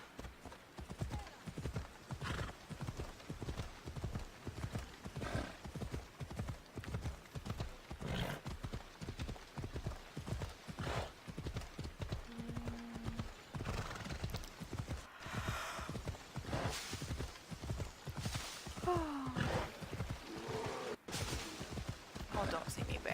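Rapid, steady hoofbeats of a galloping horse in Assassin's Creed Odyssey run throughout, with an occasional whinny and brief snorts over a busy, constant background.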